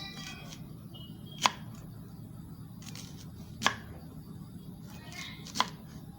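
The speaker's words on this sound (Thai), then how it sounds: "หั่นแบบเฟื่องให้พอดีคำ" A knife slices through star fruit on a cutting board for a Thai star fruit salad. Three crisp, sharp cuts land about two seconds apart, close and clear against quiet room noise.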